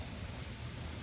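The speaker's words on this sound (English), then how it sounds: "You see it's raining pretty good out here right now." Rain falls steadily outdoors, a dense, even hiss of drops spattering on surfaces with no gaps and no voices.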